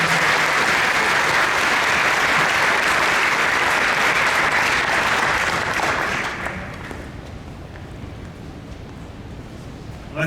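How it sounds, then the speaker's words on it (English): An audience claps after a talk on the economic forecast, a dense, steady wash of applause that thins and fades out toward the end. "Let's give them a round of applause."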